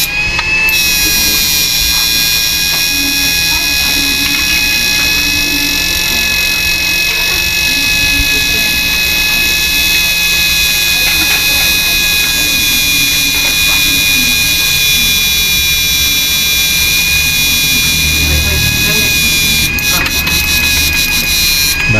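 A repaired 1K power inverter runs on its low setting, giving off a loud, constant high-pitched electrical whine and buzz that holds steady for the whole stretch.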